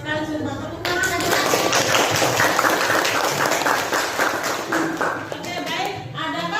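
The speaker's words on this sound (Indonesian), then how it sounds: "Sudah tepuk tangan aja." Classroom of students clapping together for several seconds, a dense, steady patter of hands with some children's voices mixed in, fading slightly near the end.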